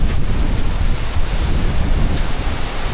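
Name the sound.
wind blowing at the seaside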